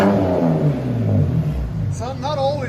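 A 2010 BMW 128i with a Cherry Bomb glass pack exhaust revs in a loud, rumbling burst, then speech joins as voices talk over the engine toward the end.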